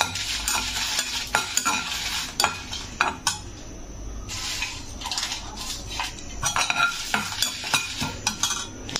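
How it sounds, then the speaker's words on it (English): Garlic cloves and cumin seeds frying over a medium flame for peanut garlic chutney, a steady sizzle overlaid with repeated scraping and clinking as a utensil stirs the pan, close and fairly loud throughout. "Keep in medium flame and you have to fry."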